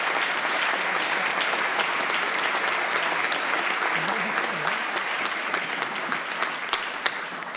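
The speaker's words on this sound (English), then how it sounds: "Please, another big round of applause for the committee." An audience at a lecture event gives a sustained round of applause, dense clapping that stays loud and steady throughout, with no one speaking over it.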